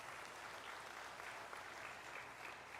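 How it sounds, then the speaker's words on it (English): Faint, steady clapping from an audience at a university convocation ceremony honouring a law graduate, a dense even wash of applause heard from a distance. "Big round of applause."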